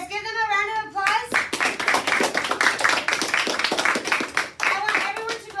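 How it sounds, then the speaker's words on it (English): Students in a classroom clap together in a dense, steady burst of applause lasting several seconds, following a short spoken line at the start. "let's give them a round of applause"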